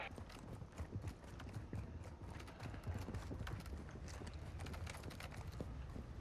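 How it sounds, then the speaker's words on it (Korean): Rapid footsteps in a video game, a dense run of clipped, clattering steps continuing steadily and fairly loud throughout, with no talking. "발소리?"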